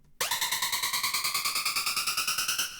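Power drill-like Serum synth processed with an LFO tool, its harsh buzzing tone chopped into rapid rhythmic pulses of about ten per second, with a slowly rising pitch, loud and alone for under three seconds.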